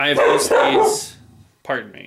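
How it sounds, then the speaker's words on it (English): A pet dog barking at home, a couple of sharp barks under and between a man's nearby speech, moderately loud. "That's my dog in the background."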